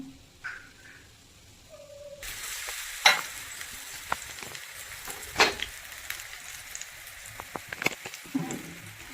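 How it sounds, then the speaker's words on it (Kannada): Coated raw banana slices frying in oil on a tava, a steady close sizzle starting after a short quiet moment, with occasional spatula taps and crackles, no talking. "ಸೊ ಇದನ್ನ ನಾವು ತವಾ ಫ್ರೈ ಮಾಡೋಣ"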